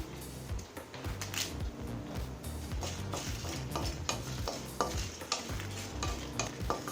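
Five dried red chilies roast in a pan, stirred steadily with repeated scraping and clattering strokes over a quiet sizzle.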